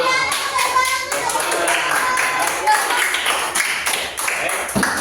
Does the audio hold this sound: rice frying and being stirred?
no